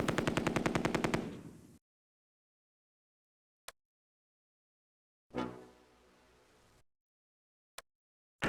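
Machine gun fire in the Close Combat World War II game at Arnhem: a loud rapid burst opening, then silence broken by single sharp shots and a short fading crash.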